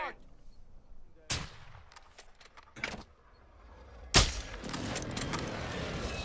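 Warzone video game combat with an airstrike, sharp booming explosions and gunshots at irregular intervals, followed by a rolling rumble, over a quiet background with faint talk.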